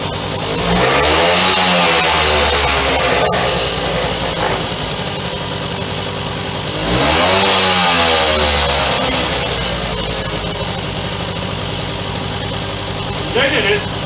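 A Suzuki K11 motorcycle engine fitted with a new cheap Chinese carburettor runs close by, idling with two strong swells of revving, a short burst of voices near the end.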